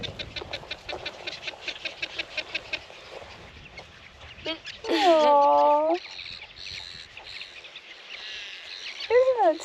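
Outdoors on a remote Australian island, a seabird gives drawn-out, wavering calls close by, with a soft rhythmic chatter before them and a person speaking briefly.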